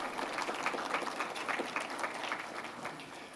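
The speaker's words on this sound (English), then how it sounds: "let's hear a round of applause for everyone" Moderate audience applause at a 2013 open access symposium, steady clapping from a modest crowd lasting a few seconds, somewhat distant and without voices.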